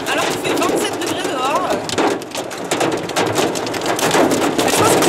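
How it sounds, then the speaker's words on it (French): Rain mixed with hail pelting down outdoors near waterfalls in the Blue Mountains during a warm-weather storm, a dense steady hiss and patter throughout, with people talking over it. "Il pleut, non seulement il pleut mais en plus c'est grêle"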